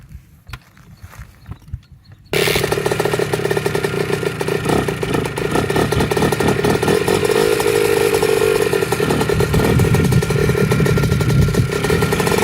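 A few quiet knocks, then a Kawasaki KX 65 dirt bike fitted with an FMF Turbinecore 2 exhaust is kick-started and settles into a loud, rough, buzzing idle that runs steadily to the end.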